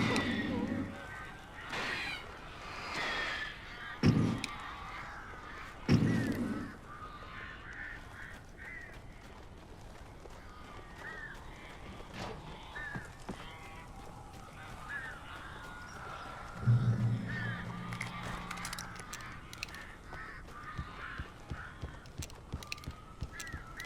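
Birds in Alan Wake, with a few loud harsh squawks and cries breaking over a dark ambient bed, the calls coming in scattered bursts near the start and again later.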